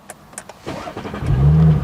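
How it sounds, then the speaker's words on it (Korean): An Audi S5 Coupe TFSI starts up, its exhaust deliberately emphasized for a high-performance model: a starter whir gives way to a loud, close, deep engine rumble that swells and holds toward the end. "이 차는 고성능 모델답게 시동을 걸 때 배기음이 좀 강조가 되어 있습니다"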